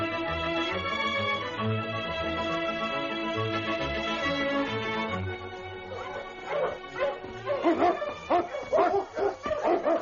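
Sled dogs barking and yipping as a radio drama sound effect, beginning under a sustained music bed, then rising into a rapid, close chorus of excited barks toward the end.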